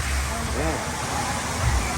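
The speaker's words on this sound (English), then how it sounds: "So you got this little creek, just comes along." A small creek flows steadily with a continuous, close rushing wash of water, and a brief faint voice-like sound rises above it early on.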